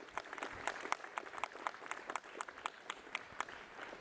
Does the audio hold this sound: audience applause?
yes